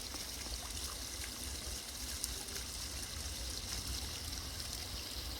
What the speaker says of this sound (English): Who said there wasn't waterfalls in Florida?